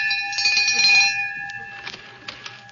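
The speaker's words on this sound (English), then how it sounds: "Don't pull that bell so hard." A pulled bell used as a radio sound effect rings loudly with a sustained metallic tone, then decays as light clattering and knocks follow.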